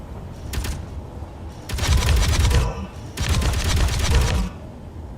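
Turret gunfire from the game Space Engineers crackles in rapid automatic bursts: a short burst near the start, then two longer sustained volleys, loud and close, with no talking over it.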